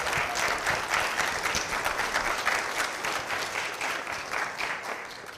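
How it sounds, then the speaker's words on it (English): A convocation audience applauds women faculty with sustained, dense clapping that holds steady and fairly loud across the whole stretch, with no talk on top. "let's give a big round of applause to our women faculty"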